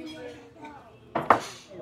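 A big steak knife saws through a gigantic restaurant steak, two sharp scraping cuts rising over the quiet murmur of a dining room, with a voice briefly speaking.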